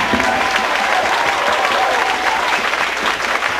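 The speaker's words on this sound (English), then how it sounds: "give a great big round of applause to this wonderful jazz band" Steady, dense applause from a concert audience for a school jazz ensemble after a performance, loud and continuous throughout with no voices standing out.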